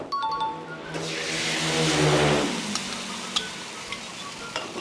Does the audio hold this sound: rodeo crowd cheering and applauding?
no